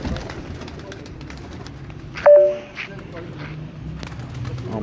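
Pigeons coo on a rooftop with soft repeated calls over a busy outdoor background, while someone talks nearby and a brief louder whistle-like sound cuts in midway.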